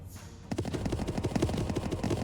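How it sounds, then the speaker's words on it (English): Cannons fire in the strategy video game Symphony of War: The Nephilim Saga, a rapid run of booming thumps that rolls on steadily and close. "And here comes cannons."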